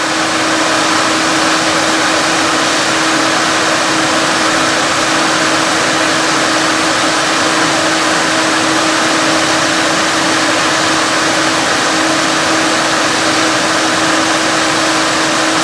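An automotive radiator fan wired up as a PC case fan for a 1-up arcade cabinet runs with a steady, loud whooshing whir and a constant low hum, unchanging throughout, with no talking.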